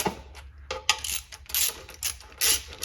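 Ratchet clicking as oil pan bolts are snugged down on a 1959 Buick Invicta, close quick bursts of metallic pawl clicks with short pauses between strokes.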